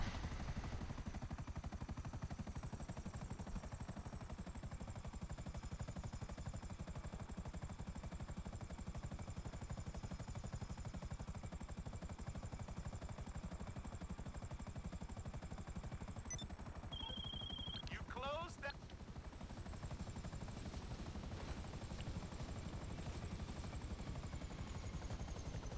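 Continuous helicopter rotor drone in the game GTA 5, steady and even throughout, with a brief electronic chirp partway through; no talking.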